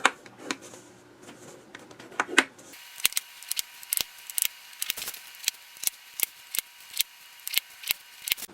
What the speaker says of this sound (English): You're scoring at 1 1/4 inches.